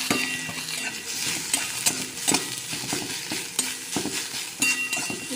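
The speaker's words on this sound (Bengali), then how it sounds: "এবার আমি শাকগুলো দিয়ে ভেজে নেব" Susuni greens fried in a pan with garlic and dried chilli, a steady close sizzle broken by repeated scraping and clanking strokes of a spatula stirring against the metal.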